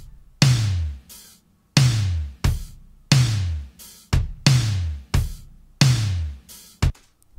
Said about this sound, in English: I took a Simmons drum sample.